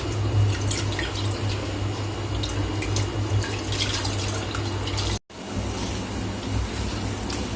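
Food being washed by hand in a fourth change of water: a steady splashing, dripping slosh close by, with a brief drop to silence near the middle before the washing sounds resume.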